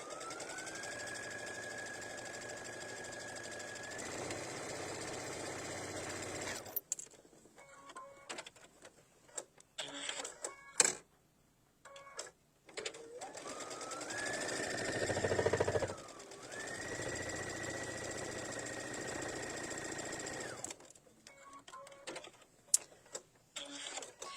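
A sewing machine stitches a quilt block, running in steady whirring stretches near the start and again midway, broken by quiet pauses filled with small clicks and handling noises; faint overall.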